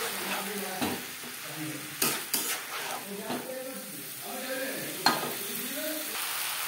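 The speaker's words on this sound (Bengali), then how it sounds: "মশলার সাথে আলু ও এঁচড় 3-4 মিনিট বেশ ভালো করে কষিয়ে নেব।" Potato and jackfruit being stir-fried with spices for a no-onion, no-garlic vegetarian jackfruit curry, with steady sizzling, repeated scraping stirs and a few sharp clanks of a spoon against the pan, with faint speech in the background.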